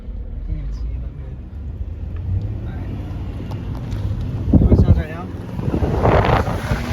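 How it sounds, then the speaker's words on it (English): Wind buffets an outdoor microphone near a supercharged car, a steady low rumble that swells around the middle and again near the end, with voices talking faintly underneath. "You definitely heard the wind."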